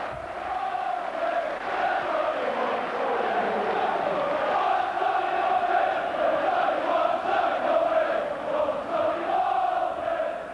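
A massive football crowd of Celtic and Middlesbrough fans roars and chants at Ayresome Park during a Sunday lunchtime pre-season friendly, a dense, steady wall of voices filling the whole stretch.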